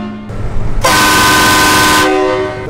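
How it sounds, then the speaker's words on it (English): Four-trumpet plastic air horn mounted on a truck blasts once for over a second, a loud, bright, brassy blare rising over engine rumble and then cutting off, with no talking during the blast. "Four trumpet, the plastic horns versus the three trumpet"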